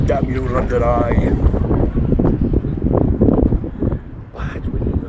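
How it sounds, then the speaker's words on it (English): Strong gusty wind buffets the microphone outdoors in rainy London, a continuous loud rumbling roar with shifting swells throughout. "It's windy."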